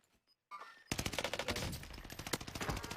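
Automatic gunfire in Call of Duty: Warzone during a college qualifier match, a brief lull and then a loud, sustained rapid burst of shots crackling continuously with no talk.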